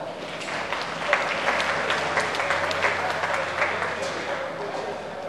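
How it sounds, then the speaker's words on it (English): Guests at an EMS Week luncheon give a warm round of applause, steady dense clapping that lasts about five seconds at a fairly even level with murmured voices underneath. "Let's give them a round of applause."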